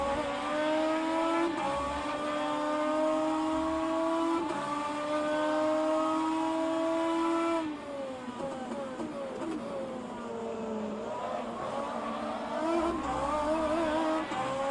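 Race car lapping Circuit Zolder in the rFactor 2 racing game, engine note droning loud and steady with rising harmonic sweeps through gear changes, a brief lift near the middle, then a low pulling growl as it accelerates again.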